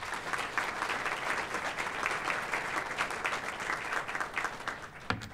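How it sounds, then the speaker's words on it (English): A crowd at a university graduation ceremony applauds a new horticulture PhD graduate with steady, dense clapping that continues throughout and fades slightly at the end. "can we celebrate her with a round of applause"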